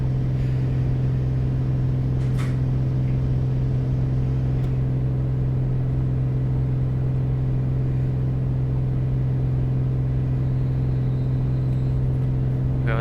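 A PA24 Comanche piston engine in Microsoft Flight Simulator 2020 drones steadily while climbing after takeoff, a constant low, even hum with no breaks.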